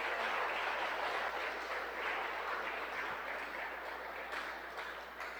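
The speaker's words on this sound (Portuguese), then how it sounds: "Vamos dar uma salva de palmas pelos irmãos que vieram" A church congregation at a family worship service applauds visiting brethren with a steady, dense wash of clapping that fills the whole stretch and eases slightly toward the end, with no voices over it.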